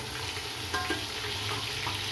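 Golden-brown onions with ginger garlic paste fry in a pot for chaana daal pulao, giving a continuous soft sizzle with faint stirring clinks, close and without talk.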